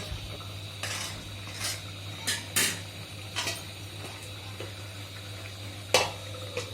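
A metal lid and pot clank as a cooking pot is handled and covered, several sharp clatters spaced irregularly over a low background hum.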